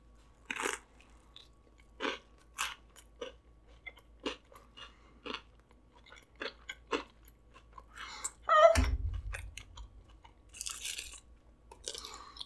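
Someone bites into and chews a crunchy Taco Bell grilled cheese burrito stuffed with Cheetos, with close, repeated crisp crunches spaced a second or so apart and a louder, rustling bite midway.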